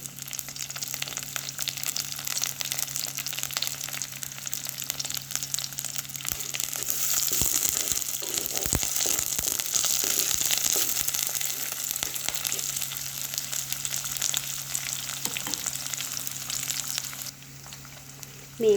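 Curry leaves, rampe and cinnamon bark sizzle steadily in a hot pan for a Sri Lankan mango curry, a continuous crackling hiss that swells louder in the middle and stops abruptly near the end.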